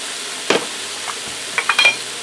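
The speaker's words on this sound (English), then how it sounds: "Now I'm going to fry this for a few minutes till my mushrooms and my onions soften up and start to brown" Mushrooms and onions cook in a skillet with a soft, steady sizzle, broken by a few scraping stirs of a utensil against the pan.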